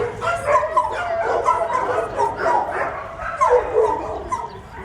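Dogs in a pound bark, yip and whimper in a near, continuous stretch of agitated calls, several overlapping, with no talk.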